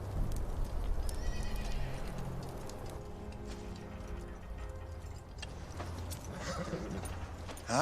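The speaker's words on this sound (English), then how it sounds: "Finlay, get the horses tied up." Horses neigh and whinny while hooves clip-clop nearby, at a moderate level amid outdoor movement and faint jangling.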